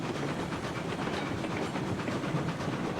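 Steam locomotive number 73 running on rails in the game Railroads Online, a steady rolling rumble with faint rhythmic clatter at moderate volume and no talk.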